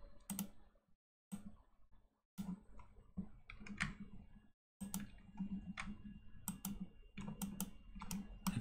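Computer keyboard keys pressed in short bursts of crisp clicks and taps, separated by brief silent gaps, close and fairly clear, with a faint low hum beneath.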